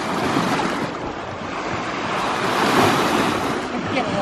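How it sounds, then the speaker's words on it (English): Rough waves pound the rocky shore of Lake Superior, a loud continuous roar of surf with heavy wind buffeting the microphone throughout. "that's some rough water."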